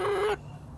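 A single brief chicken call, a short squawk cut off abruptly, heard up close near a chicken tractor and followed by quiet.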